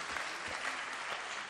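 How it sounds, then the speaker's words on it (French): Brief applause for Corinne at a New Year's greetings event, a steady, moderately quiet patter of many hands clapping from start to finish. "Un petit applaudissement pour Corinne"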